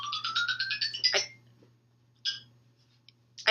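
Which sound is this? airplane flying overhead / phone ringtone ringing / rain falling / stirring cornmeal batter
phone ringtone ringing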